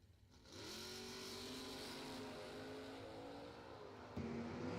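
Drag racing cars, a 1972 Nova and a 1968 Firebird, launch off the line with a sudden roar that holds loud and steady, rising in pitch, with a sharp jump near the end.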